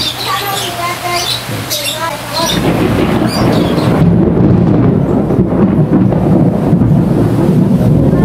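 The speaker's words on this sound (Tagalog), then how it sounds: "Ipakita ko sa inyo yung sitwasyon habang naulan dito ngayon." Birds chirp at first, then a heavy downpour with thunder swells into a loud, continuous roar of rain, while a voice talks faintly underneath.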